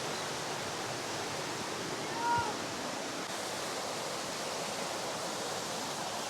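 Turgut Waterfall gives a steady, broad rush of flowing water, constant and moderately distant, with a faint brief tone briefly breaking through.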